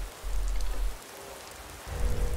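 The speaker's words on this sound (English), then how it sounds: "It's raining." Rain in Skyrim, a soft hiss of falling drops on surfaces with low rumbling surges that rise and fade in waves, steady and moderately quiet, with no talk.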